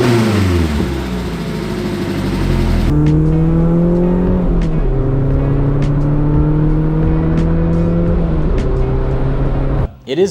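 Mazda Miata NC exhaust with an aggressive muffler rumbles and revs, engine tone rising and falling through several pulls, loud and close, with a sharp cut at the end.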